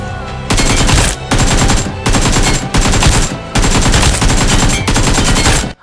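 Loud bursts of rapid automatic gunfire from crouched hip-firing in a mobile shooter game come in several long sprays, separated by short gaps, close and harsh with no talking.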